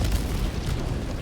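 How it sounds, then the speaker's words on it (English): A cannon blast in the video game Helldivers 2, heard as a loud, deep booming roar that fills the whole short moment. "I saw that cannon at the last second and ducked just in time."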